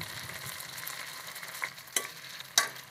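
Onions, cashews and tomato fry in hot oil for mutton dum biryani, a steady close sizzle punctuated by a few sharp spoon knocks and stirring clatters near the end.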